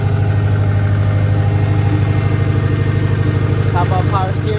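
A 2003 Subaru Impreza WRX engine, just back together after a thermostat replacement, idling close by with a steady, even low throb and a faint chirp near the end.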